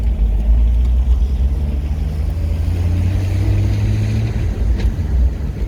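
A 1964 Chevrolet Impala pulls along in first gear, a loud, steady low engine rumble with a faint higher whine that fades out toward the end, heard from inside the car with no talk.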